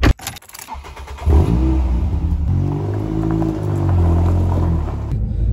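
A MK6 Ford Fiesta ST150, freshly fitted with new rear shock absorbers, starts with a clatter and settles into a loud, close engine rumble that swells and revs as it pulls away, with no talking.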